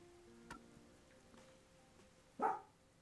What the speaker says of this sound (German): Mein Hund bellt.